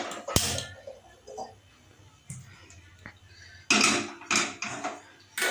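A metal wok is set down on a lit gas stove in a home kitchen, making a few sharp clanks and knocks against a quiet background.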